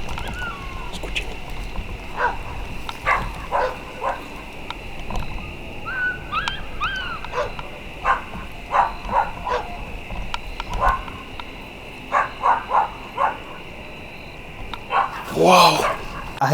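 A dog barks in repeated short bursts and whimpers and yips between them, at close to moderate distance, over a constant high electrical hum. The barks come irregularly, with a louder, longer cluster near the end.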